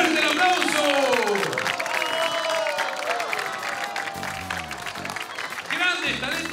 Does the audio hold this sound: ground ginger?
no